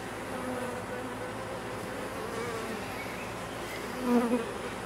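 Inside a beehive, a dense, steady buzz of many bees fills the space, and a queen bee gives a short, rising piping tone near the end that cuts through the hum.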